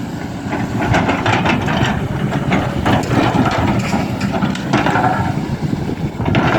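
A 21-ton excavator's four-cylinder common-rail diesel with a water-cooled turbo intercooler runs at a bridge demolition site, giving a loud, steady, close roar with a constant hiss and no pauses.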